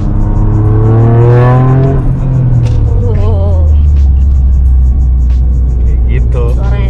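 A Toyota GR Yaris fitted with a Remus aftermarket exhaust pulls hard, engine note rising through the revs with a gear change partway, loud and close, with voices talking over it.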